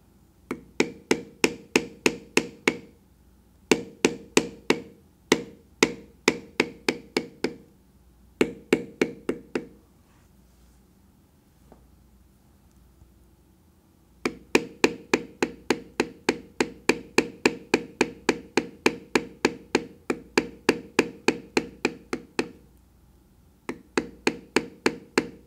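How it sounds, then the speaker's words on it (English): Metal beveling tool struck repeatedly on carving leather for a longhorn head design, sharp close mallet taps in fast even bursts separated by short pauses, with no talk. "I will bevel a little bit more lightly through there, and then the lower lip I will go ahead and bevel to my regular depth."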